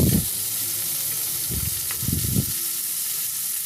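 Ginger and garlic added to a frying pan, hissing in a steady moderate sizzle with a few low stirring thumps early on, no speech.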